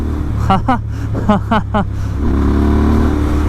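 Royal Enfield Interceptor 650 motorcycle fitted with an S&S camshaft pulling hard, a steady buzzy engine drone under a rider's voice, rising to a fuller, louder pitch once the talking stops.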